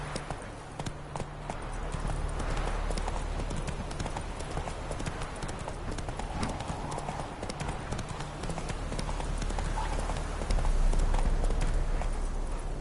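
Roach the horse trotting in The Witcher 3, with hooves clip-clopping in a steady, continuous rhythm across the whole stretch and growing slightly louder near the end.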